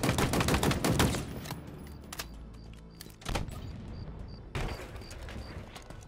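Bursts of machine gun fire in Halo Infinite rattle out in rapid volleys, a dense stream at first, then separate loud bursts with quieter gaps between, close and punchy.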